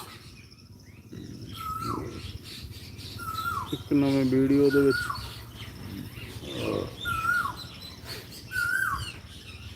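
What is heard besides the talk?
sparrows and parrots chirping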